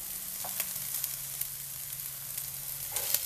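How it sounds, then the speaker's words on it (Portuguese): Chopped onion sizzling in a hot pan with browning ground meat for an Italian ragù, a steady close frying hiss with occasional small pops and stirring clicks, no talking. "Agora nós vamos acrescentar aqui a cebola"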